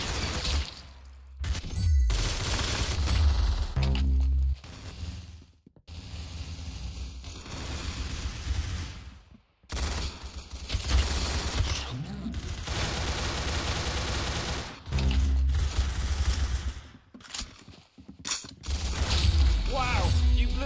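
Gunfire in the Roblox shooter Arsenal, with repeated bursts of shots and sharp impacts coming in clusters over a busy game soundtrack and voice chat.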